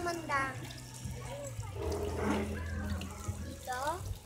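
Water running steadily at a beach resort, a close splashing flow like a tap, under people chatting.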